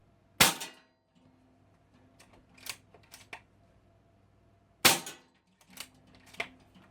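A Diana Outlaw .25 caliber air rifle firing two sharp, close shots several seconds apart, with light mechanical clicks of cocking and loading in between.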